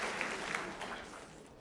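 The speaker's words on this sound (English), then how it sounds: "Lauren and Mohammed, round of applause for being so brave to come up here." Audience applause for two volunteers at a maths talk on rolling dice, a dense, steady wash of many hands clapping at moderate level, filling the moment without any voices.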